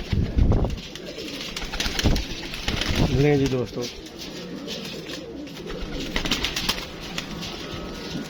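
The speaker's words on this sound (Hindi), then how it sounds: "ये कौन सा कबूतर है?" Pigeons coo softly in the background as someone speaks briefly nearby, with some rustling and wing flutters.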